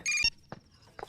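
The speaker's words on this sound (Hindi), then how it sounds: "फोन बजा, फोन।" Telephone ringtone of steady electronic tones, loud and close, chirping in a short burst before cutting off, followed by faint footsteps and a brief voice.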